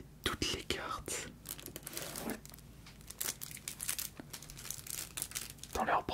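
Plastic protective sleeves on Slay the Spire board game cards crinkle and rustle close up in bursts, with soft crackles and a few tearing scrapes, while a voice whispers quietly over the handling.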